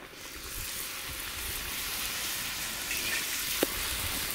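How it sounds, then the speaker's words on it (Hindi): Bhature deep-frying in hot oil make a steady, dense sizzle and bubbling hiss that holds evenly throughout, with a brief small clink partway through and no voices. "ये देखें भठूरे फ्राई हो रहे हैं"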